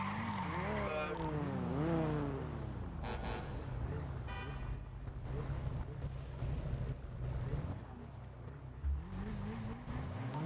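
Video game street-racing car with engine revs sweeping up and down, then tires skidding and squealing, loud and close over continuous game noise, with a voice talking at times.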